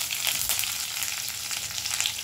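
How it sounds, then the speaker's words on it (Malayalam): Mustard seeds and urad dal fry in hot coconut oil with a dense, crackling sizzle and rapid popping throughout, close and fairly loud. There is no talk. "വെളിച്ചെണ്ണ ഒന്ന് ചൂടായി കഴിയുമ്പോൾ നമുക്ക് കടുകും ഉഴുന്നും കൂടി ഇട്ട് കൊടുക്കാം."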